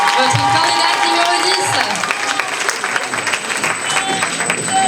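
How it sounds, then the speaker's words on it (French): A pageant audience at the Miss Yonne 2024 contest applauds a candidate, with dense, loud, steady clapping and crowd noise, a few cheers, and a sustained tone running through. "On l'applaudit bien fort"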